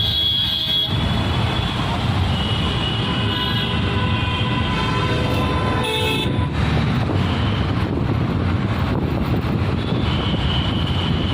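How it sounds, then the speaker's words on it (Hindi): Busy road traffic in Punjabi Bagh, Delhi, a steady loud wash of engines and wind on the microphone, with scattered short horn toots through the clip. "देखो पंजाबी बाग में भी ट्रैफिक मिल गया।"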